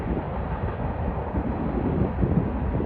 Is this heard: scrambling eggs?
no